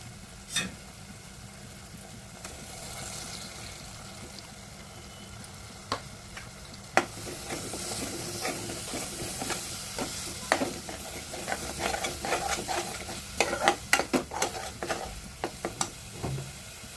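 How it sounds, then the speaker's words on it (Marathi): Ground spice paste (vatan) stirred and sautéed in hot oil for a Maharashtrian black-eyed pea usal, steady frying sizzle under repeated scraping clicks of a spoon against the pan, no voices. "वाटण घालून परतून घेऊया"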